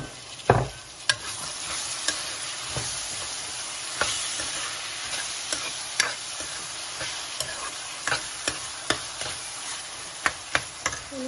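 Onion, tomato and split chickpeas frying for a cabbage dish, a steady sizzle broken by regular knocks and scrapes of a spoon stirring against the pan, with no voices.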